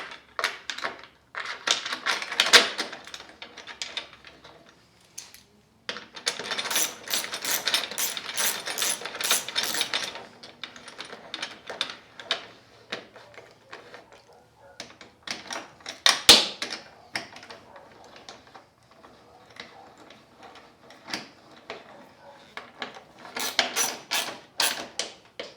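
Hand ratchet tightening a headlight bracket on a Honda Goldwing GL1500 motorcycle, rapid clicking in several bursts separated by pauses, close and fairly quiet, no talk.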